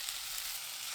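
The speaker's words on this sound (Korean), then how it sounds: "감자 넣고 센 불로 2분 볶습니다" Potatoes stir-frying in a pan with a spoonful of cooking oil over high heat, a steady close crackling sizzle throughout with no voices.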